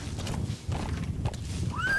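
A horse in the open-world game Metal Gear Solid V: The Phantom Pain snorts and clip-clops, ending in a rising whinny over steady low ambient rumble and wind.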